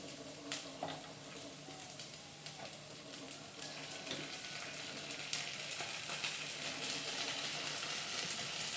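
Chopped onion frying in a pan for a corn dish, a steady close sizzle that grows slightly louder, punctuated by a few sharp pops and light stirring scrapes, with no talking.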